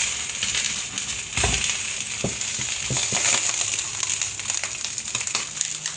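Cooking oil heats in a pan before hilsa fish goes in, giving a constant bright sizzling hiss with scattered crackles and a few low thumps, fairly close and steady throughout.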